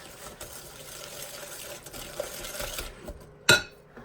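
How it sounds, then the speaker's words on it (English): Eggs are beaten by hand with a sugar and spice mixture in a bowl, making soft, rapid scraping and tapping of a utensil against the dish, ending with one sharper clink. "add the sugar and spice mixture into the eggs and give that a slight mix"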